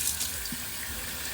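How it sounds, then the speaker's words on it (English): Chicken getting a quick rinse under a cold kitchen tap, a steady broadband splash of running water with no voices over it. "We're going to rinse it off in some cold water."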